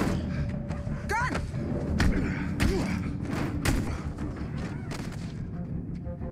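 Several sharp gunshot thuds from a Reacher TV episode, scattered irregularly through a busy scene with background sound and people talking.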